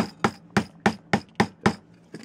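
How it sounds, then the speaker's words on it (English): Seven sharp, evenly spaced hammer blows drive staples into a new wooden Victor rat trap, each strike close and punchy with a quick decay and no talk. "and then I hammer the staples home."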